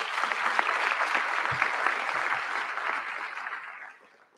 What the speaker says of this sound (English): Let's also have a round of applause for our Advise Texas counselors, Victoria Margot and Spencer Pepper,